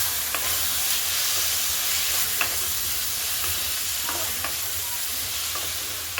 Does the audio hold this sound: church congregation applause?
no